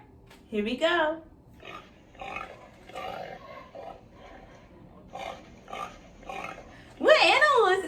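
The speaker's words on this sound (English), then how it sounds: "A pig." A recorded pig plays for a children's animal-guessing game, giving a series of short, nasal oinks and grunts spaced out over several seconds, with a louder squeal near the end.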